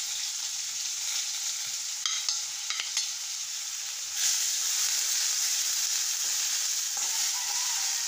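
Onions frying in coconut oil with popped mustard seeds for an egg curry, giving a steady close sizzle and hiss with a few stir clatters, the frying growing louder partway through.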